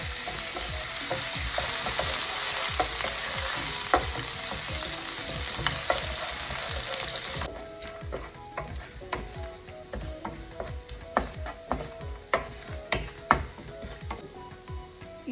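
Mustard seeds, dried chillies and soaked chana dal sizzling in hot oil over a low flame, a bright hiss that drops away halfway, leaving sharp popping and crackling bursts that grow more frequent.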